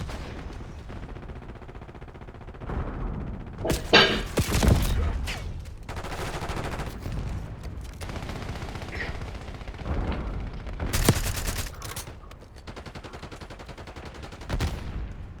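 Grenade blast and bursts of gunfire from a video game firefight, with several loud sharp explosions spread across the stretch amid continuous rattling shots.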